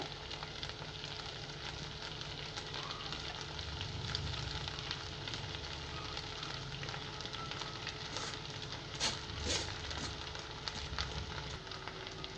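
Schezwan noodles with soy sauce and black pepper sizzle in a hot pan as they are stir-fried and tossed, a steady crackling hiss broken by occasional scraping stirs, close and moderately loud with no speech.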